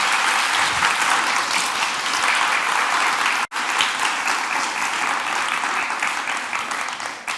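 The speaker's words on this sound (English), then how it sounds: "Can we have a round of applause for Patrick?" An audience at a design festival keynote applauds a speaker, a dense sustained clapping that holds steady for several seconds, dips briefly, then continues and tapers slightly.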